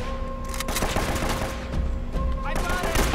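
Rapid bursts of gunfire in Uncharted: Drake's Fortune, the shots crackling in dense volleys over steady game sound with a constant tonal hum, loud and close throughout.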